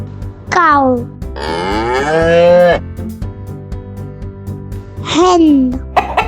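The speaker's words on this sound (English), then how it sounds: "cow," Cow mooing in a set of farm animal sounds: several loud, drawn-out moos with rising and falling pitch, separated by short pauses, heard alone with no talking.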